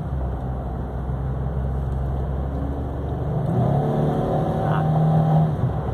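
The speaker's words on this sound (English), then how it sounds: "I'll give it some gas and let you see it switch through gears" A 2008 Jeep Wrangler Unlimited Sahara 4x4 engine idles low, then revs up loudly as it accelerates, the pitch climbing and dropping through smooth gear shifts, close and steady throughout.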